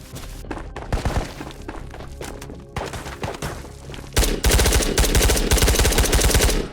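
Automatic M16 rifle fire in the video game Ghosts of Tabor, rapid bursts of shots at close range that build into a dense, loud sustained barrage toward the end, with no talking.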